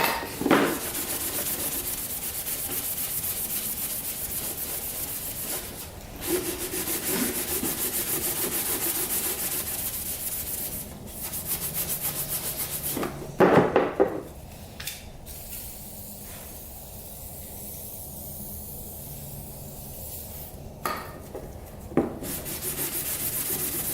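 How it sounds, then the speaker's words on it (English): Plastic body parts of a Yamaha Warrior 350 ATV being scrubbed with SOS steel wool pads: a steady, close abrasive rubbing broken by short pauses and a few louder scraping bursts, with no talking. "We got the SOS pads out here, and the plastics. Let's see if these clean up a bit."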